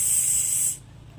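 Pressure cooker cooking rice on a gas stove releases a loud, sharp hiss of steam that cuts off abruptly after under a second, leaving a faint background.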